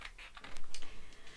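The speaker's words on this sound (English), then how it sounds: "And then you just need to cut around our pencil lines" Scissors snip around pencil lines to cut out paper clouds for a pop-up balloon card, a quick close run of crisp, irregular clicks and crunches.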